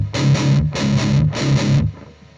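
Distorted electric guitar through an AMT Incinerator NG-1 noise gate: three loud chugging bursts, each cut off abruptly, with faint residual artifacts and hiss in the gaps and after the last chord.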